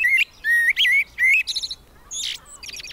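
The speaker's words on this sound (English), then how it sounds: "Blackbirds have loud and beautiful songs." A blackbird sings loud, clear fluting phrases close by, with short pauses between bursts.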